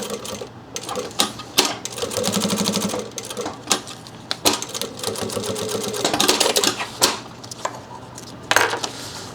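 Sewing machine chain-stitching a run of backpack pieces one after another without cutting the thread, a fast mechanical whir in bursts with short pauses and clicks between pieces, close and steady.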